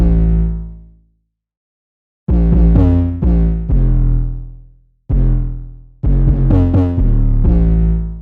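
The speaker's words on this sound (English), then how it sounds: "For this one, I used the 808 saturated bass." A saturated 808 bass in a BandLab trap beat: heavy, distorted low hits that boom and tail off, with a gap of silence followed by chopped rhythmic bursts layered with the beat, loud and alone.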